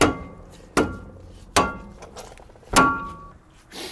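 Four heavy metallic hammer blows ring out at uneven intervals, close and loud, each with a brief ringing tail, as a brake rotor is beaten off a Ram 2500 rear axle.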